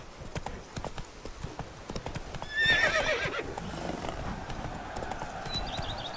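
Roach, a horse in The Witcher 3: Blood and Wine, gallops with quick rhythmic hoofbeats and lets out a loud, close neigh near the middle before the hooves carry on.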